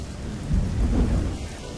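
A thunderstorm with heavy rain: a loud, dense downpour with deep rumbling thunder swelling in the middle, heard alone with no voices.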